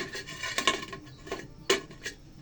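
A lid is set onto a cooking pot with a few light metallic clinks and scrapes, spaced out and fairly quiet, the sharpest knock coming near the end.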